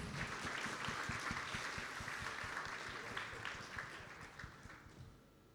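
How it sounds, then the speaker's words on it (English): Audience applause for conference panelists at the close of a morning panel session, dense steady clapping that fills the room, then gradually thins and softens toward the end. "Let's give our panelists another big round of applause."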